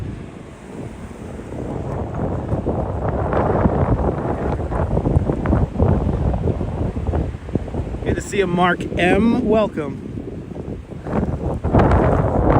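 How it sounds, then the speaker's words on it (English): Strong gusty wind buffets the microphone throughout in Branch Brook Park, a steady broadband roar beneath a voice, with a brief birdlike chirping passage partway through. "Welcome to Brook Park, where it's very windy."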